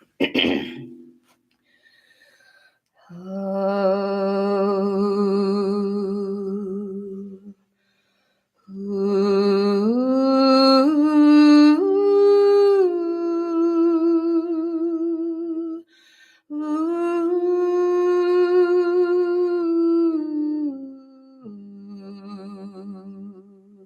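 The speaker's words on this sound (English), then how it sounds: "I'm going to sing. It's a vowel mantra song." A single voice sings a vowel mantra in long sustained tones, rising and falling phrases separated by short pauses; no clear frame drum beats stand out.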